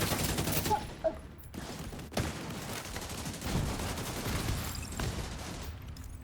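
Rapid video-game gunfire rattles in dense, overlapping bursts at a steady, fairly loud level for the whole stretch, with a few sharper cracks early on and only faint traces of voice underneath.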